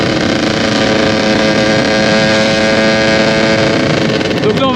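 A 50cc motorcycle fitted with a 70 Top kit drones steadily while riding, its engine buzz loud and continuous with wind rushing past the microphone throughout.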